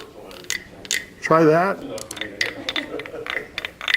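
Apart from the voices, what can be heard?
big wooden frog rasp toy being scraped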